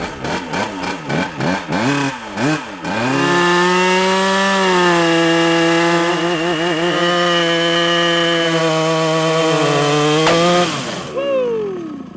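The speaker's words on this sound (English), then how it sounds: "we got a good rip in on the two-stroke KT100 mini bike" A KT100 two-stroke mini bike engine revs hard in quick bursts during a burnout, then holds a loud, screaming high pitch close by before the revs drop away.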